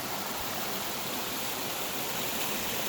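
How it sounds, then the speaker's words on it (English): Water running in a shallow stream at McGalliard Falls Park, a loud, steady rushing and bubbling that continues unbroken throughout, close by and with no voices. "You see the water running here, and down there it gets a little deeper"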